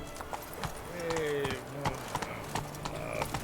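Horse Roach from Witcher 3 clip-clopping at a steady gallop, hoofbeats regular and fairly close, with a voice talking over them.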